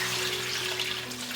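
Two bowls of water poured into a hot pan of browned chicken with soy sauce and slab sugar, a steady close rushing pour with faint sizzle underneath.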